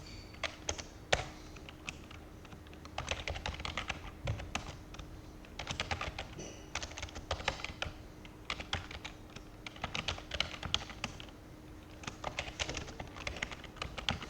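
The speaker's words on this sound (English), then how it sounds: "I'm going to type in something crazy" Quiet typing on a computer keyboard, with irregular bursts of soft key taps and short pauses between them, close and alone in a quiet room.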